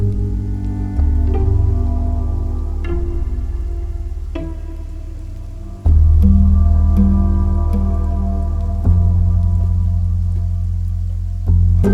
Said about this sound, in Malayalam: ഇതെന്താ ഇപ്പം ഇങ്ങനൊരു മഴ?